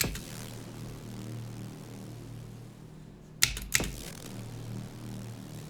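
Arturia MiniFreak bass preset played through Analog Lab: a sustained, low synth bass tone holding steady at moderate level, briefly cut by two sharp clicks near the middle before the tone resumes, with no voices.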